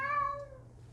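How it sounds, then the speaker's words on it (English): A pet cat meows once, close and fairly loud, a drawn-out tonal call that fades over about half a second, heard alone in a quiet room during scale-model painting. "That was my cat. He was saying hi."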